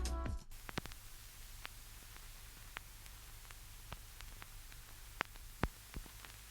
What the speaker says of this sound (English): Outside of the bass, I've then got my signature crackle and tape hiss